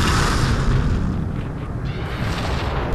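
A grenade blast in a combat video game, a loud, sustained rumbling boom that fills the whole stretch with no voices over it.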